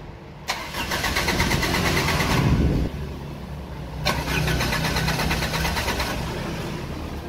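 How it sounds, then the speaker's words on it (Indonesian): A fuel-injected car's engine, newly converted to run on LPG gas, cranks in two long starter bursts separated by a short pause, loud and close, without catching into a steady idle. "Gas sudah terpasang. Uji nyala pertama."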